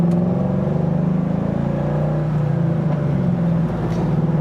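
A 1967 Ford Mustang restomod with a short-throw manual shifter pulls out of a neighborhood, its engine a close, steady, loud drone that holds throughout with no talking.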